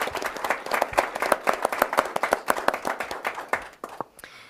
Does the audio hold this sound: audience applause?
yes